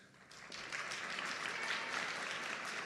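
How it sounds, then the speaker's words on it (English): Audience applause at an education week launch event, a dense wash of clapping that swells after a brief quieter start and holds steady, fairly distant. "So please, round of applause quickly for them."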